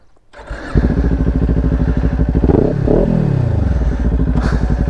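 A 2018 Kawasaki Ninja 400 parallel-twin motorcycle on a commute, starting up and then pulling away with a loud, close engine note that rises and dips through gear changes amid steady buzzing.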